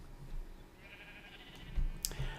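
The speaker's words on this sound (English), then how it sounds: "That's sheep." A sheep in Minecraft (Feed The Beast) gives one drawn-out bleat at moderate volume, followed by a couple of sharp clicks and thumps from game actions.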